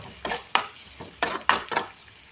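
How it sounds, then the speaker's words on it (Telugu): Green chillies and chopped onion being stirred in hot oil, with a handful of bursts of scraping and sizzle as the pan is worked; nearby and fairly loud, with no talking. "ఇవి మొత్తం బాగా ఫ్రై చేసుకోవాలి."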